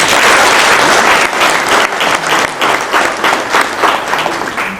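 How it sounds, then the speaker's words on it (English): Loud, close applause from a Makerere University celebration audience, a dense crowd clapping with a rhythmic pulsing swell that fades slightly toward the end. "And can we give a round of applause to Makerere University?"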